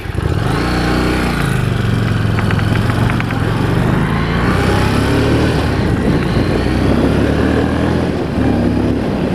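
2017 Harley-Davidson Street Rod engine running, heard loud and close throughout as a continuous rumbling drone with rising and falling revs as the bike is ridden.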